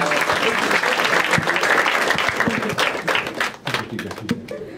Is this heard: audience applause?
yes